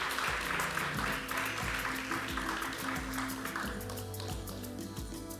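Audience applause at a panel discussion on mental health in comics, steady clapping of a moderate-sized crowd, fairly soft and continuous with a low musical hum underneath.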